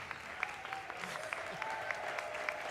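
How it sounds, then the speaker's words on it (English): Faint, distant applause from an audience for students at a Final Four event in Houston, steady scattered claps heard from afar in a large space. "Give yourselves a big round of applause."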